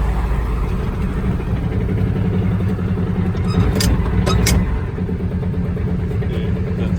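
A Kawasaki Mule 2510 utility vehicle's engine runs loud and steady on both cylinders, a continuous throbbing drone close by, with a couple of faint higher clinks partway through.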